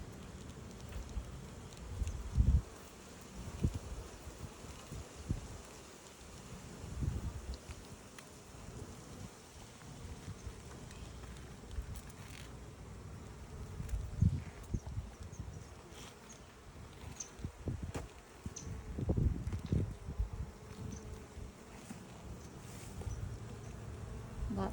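Honey bees hum and buzz steadily around an open hive frame during light rain, a soft continuous drone close by with occasional louder passes of individual bees.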